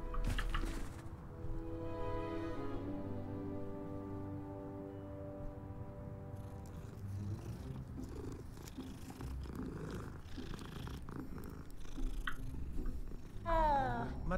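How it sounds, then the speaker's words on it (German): A cat purrs in the video game Hogwarts Legacy, giving a soft, steady rumbling purr through most of the stretch. Game music and ambience sit around it, with brief chirps toward the end. "Katze."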